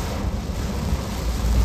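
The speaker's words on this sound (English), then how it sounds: "we're just getting bands of heavy rain" Heavy rain pours during Tropical Storm Alberto near Rockport and Lamar, Texas, a loud, dense, steady roar with rumbling low wind noise throughout.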